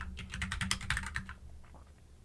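Fingers type on a computer keyboard during a live C programming session, a quick, close run of crisp key clicks in an uneven burst that thins out toward the end.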